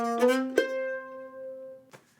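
Short mandolin phrase played alone and close: a few quick upstrokes, a muted ghosted downstroke, then a sustained note sliding slightly before a final light strum.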